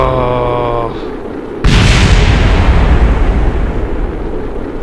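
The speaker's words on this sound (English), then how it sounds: "Oh, it's gonna explode." In Kerbal Space Program, an overheating spacecraft blows up with a sudden loud blast that cuts off the tonal game music and leaves a long, roaring rumble as it fades.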